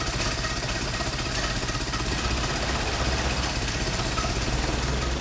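A Ford Model T engine idles steadily, a close, continuous low mechanical rumble with even rhythm and no voices.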